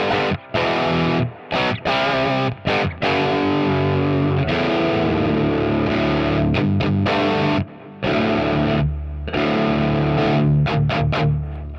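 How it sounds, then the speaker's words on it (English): Jet JT-600 electric guitar played through a distortion pedal, a loud, sustained, heavily distorted tone with strummed chords and held notes separated by a few brief stops and short silences, with no voices. "So we have put a distortion pedal on the front."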